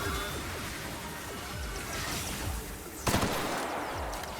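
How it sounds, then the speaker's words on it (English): Gunfire from drones in the video game The Outer Worlds: dense, rapid volleys of shots form a steady crackling barrage throughout, with a sharper, louder burst about two-thirds of the way in. "Wait, the drones are shooting him."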